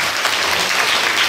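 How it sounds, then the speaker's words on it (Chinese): Audience at a teacher-training workshop on public speaking applauding, a dense burst of clapping from many hands that fills the short moment, loud and close. "我们掌声鼓励一下"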